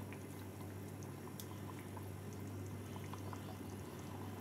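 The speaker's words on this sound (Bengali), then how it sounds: "আর দিয়ে দেব হাফ কাপ মতো জল।" Half a cup of water poured into soybean ghugni in a pan on the stove gives a steady, soft wash of liquid over a constant low hum, with no voices.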